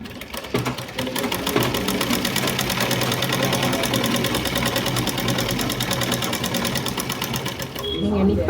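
A sewing machine runs continuously while stitching the side seam of a chudi top, a steady, fast, close mechanical chatter with an even pulsing rhythm that holds for several seconds before easing near the end.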